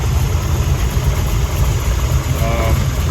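A 1970 Chevrolet Nova engine idling steadily, a loud, close, low rumble that stays even throughout.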